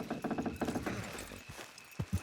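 Horses' hooves clip-clop in a quick irregular rhythm on the ground in Red Dead Redemption 2, fairly close, with a few scattered thuds toward the end.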